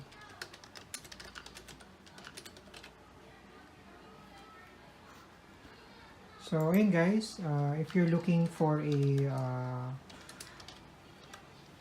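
Rapid clicking keystrokes on a Logitech MK235 computer keyboard come up close, fading out before a person speaks over them, with a few keystrokes returning after the talk.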